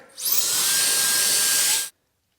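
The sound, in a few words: air blower used on car interior carpet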